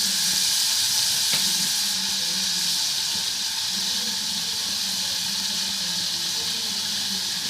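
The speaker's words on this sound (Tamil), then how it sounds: "பொடிசா நறுக்கின வெங்காயம்" Finely chopped onions sizzle in hot coconut oil for a Kerala-style beef curry, giving a loud, steady hiss of frying with faint stirring underneath. No one speaks.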